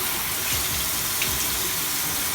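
Hot tap water runs steadily into a sink, a continuous close splashing rush with no voices.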